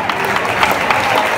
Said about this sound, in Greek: Ένα καλό χειροκρότημα, Νίκος Κουρμπούλης, στην αγάπη σας.